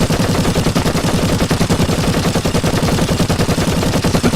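Rapid automatic gunfire in a video game, a loud, dense stream of evenly spaced shots with no pause, heard alone.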